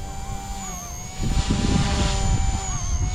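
XK K130 RC helicopter with a brushless main motor flying nearby, its high steady whine holding on while a rougher rushing roar swells in and stays loud.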